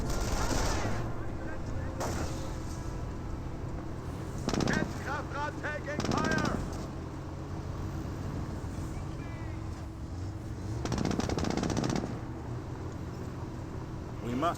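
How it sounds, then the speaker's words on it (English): Suppressive rifle and machine-gun fire in the World War II strategy game Company of Heroes, several sharp bursts of shots spaced across the scene, moderately close, with battlefield ambience and a commentator talking over it. "Does use the suppressive fire ability there onto the fresher rifleman squad, just forcing him down."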